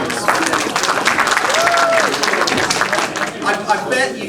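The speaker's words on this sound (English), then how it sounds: "so let's give a big round of applause." Audience applause at a festival stage magic show: steady, dense clapping from a crowd throughout, with a voice speaking over it.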